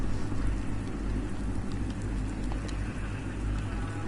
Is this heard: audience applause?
no